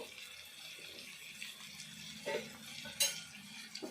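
Chicken and onion mixture being stirred in a pan over a low flame, soft scraping with a couple of sharper utensil clinks against the metal, quiet and close.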